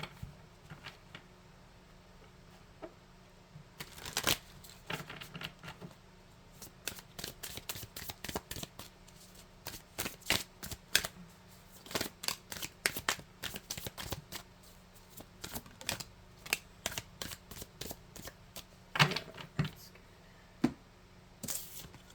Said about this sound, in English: Let's get some Mystic Forest Oracle cards.